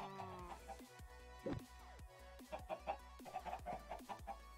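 A rooster and chickens cluck repeatedly in Minecraft Sky Factory 3, with short, uneven bursts of birdlike calls over a low, steady game background.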